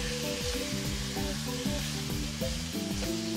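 A ribeye steak sears in generous extra virgin olive oil in a saucepan, giving a steady, fairly loud sizzle while strong tonal music plays throughout.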